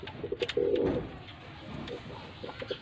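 Pigeon cooing at a pigeon breeder's loft in Faisalabad, a soft, close coo after a few short calls, with faint chirps and clicks over low background noise.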